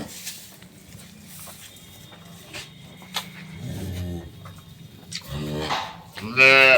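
Cattle moo at a market for improved-breed dairy cows and calves, with several loud, drawn-out calls rising toward the end over faint background chatter and a person talking.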